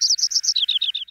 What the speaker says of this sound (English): the researchers played a trill like this, with fast, high-performance vibrations for 6 female birds